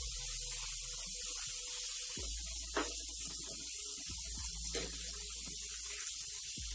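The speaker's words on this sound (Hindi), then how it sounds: "1/2 मिनट तक हम प्याज के साथ टमाटर भी भून लेंगे" Tomatoes sizzle and fry with onions in a pan while being stirred, a soft continuous hiss with occasional scraping clicks of the spoon, heard close and fairly quiet.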